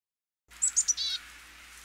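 A black-capped chickadee at a backyard feeder gives a quick run of three or four high, clear chirps followed by a short buzzy note, close and fairly faint over quiet background.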